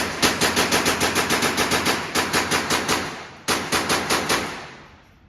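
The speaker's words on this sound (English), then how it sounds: "now it's time for me to go shoot the 43x, my personal weapon." A Glock 43x pistol fired at a gun range: about twenty loud, close, sharp shots in quick, steady strings, with brief pauses near the two- and three-and-a-half-second marks before firing resumes.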